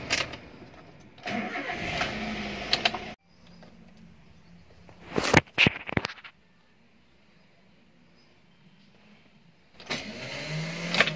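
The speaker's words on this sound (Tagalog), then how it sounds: "Minsan kakagat, minsan hindi. Ang starter Toyota Avanza." Toyota Avanza starter with a faulty bendix drive cranking in separate attempts: bursts of grinding engine cranking broken by quiet gaps, with one sharp rattling catch in the middle, close up and without talk.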